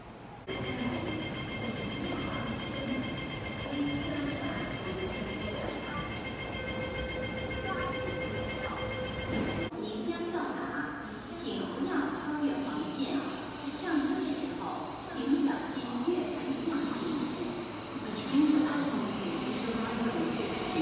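Hong Kong KCR train departing a station, a steady rumble with wheels screeching loudly after the first half, sustained high squeals over rolling noise.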